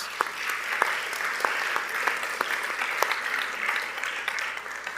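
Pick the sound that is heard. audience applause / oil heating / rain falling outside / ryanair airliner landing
audience applause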